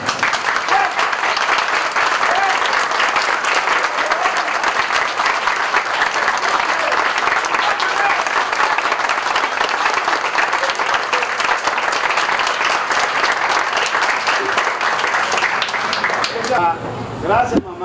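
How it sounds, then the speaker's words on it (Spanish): Children's applause for their parents at a youth sports gathering, a dense, sustained clapping that fills the whole stretch at steady loudness before tapering off at the end, with a voice briefly audible as it fades. "Y le den un aplauso a sus padres."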